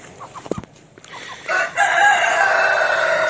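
Hen given by a friend, clucking and crowing close by in a yard, several short calls early, then a loud sustained cackling that runs to the end.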